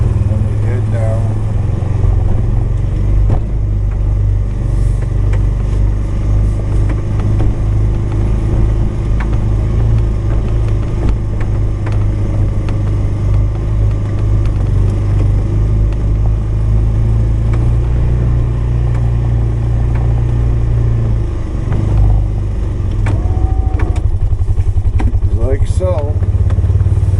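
A snow plow truck drives steadily while plowing after a snowstorm, its engine a continuous low rumble with the blade scraping underneath, unbroken throughout with occasional faint voice.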